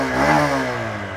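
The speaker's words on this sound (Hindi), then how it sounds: "आइडियल कंडीशन पर आप इस बाइक का इंजन साउंड सुनो, एग्जॉस्ट नोट सुनो।" A Honda SP 125 ABS motorcycle engine runs nearby with a smooth exhaust note, a steady mid-pitched hum that swells briefly as if lightly revved, then settles back.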